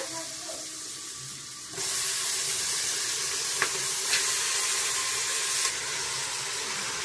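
Mutton pieces fry in a hot pan with turmeric and salt, a steady loud broadband sizzle that jumps up suddenly as the meat goes in and carries on with a few faint clicks of stirring.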